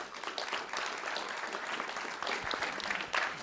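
Audience applause at a school district board meeting honoring the Teacher of the Year, steady clapping from a room full of people that runs throughout with a slight swell near the end.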